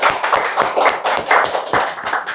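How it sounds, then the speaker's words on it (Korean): A short burst of group clapping from a church congregation during a Sunday morning service, dense and steady for a couple of seconds, with sharp overlapping claps and no voices. "우리 모두를 위해서 박수 한번 하겠습니다."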